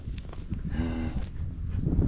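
A cow moos once in a drawn-out, loud call at close range on a Brazilian farm during calf work, with scuffling and hoof sounds around it.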